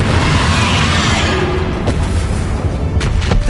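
Confringo explosive spell blast in the Hogwarts Legacy game: a loud, rumbling boom that fades into noisy combat, followed by a couple of short crackling pops.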